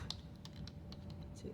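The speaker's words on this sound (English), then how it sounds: "I'm going to type it while I'm talking to you." Quick, light keystrokes as a password is typed on a computer keyboard, a short run of close, crisp clicks at low volume.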